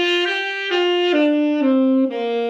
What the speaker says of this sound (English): next I'd like to talk about the minor pentatonic scale.